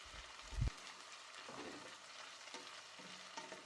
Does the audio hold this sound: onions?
yes